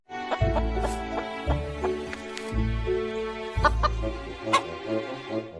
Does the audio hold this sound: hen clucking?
yes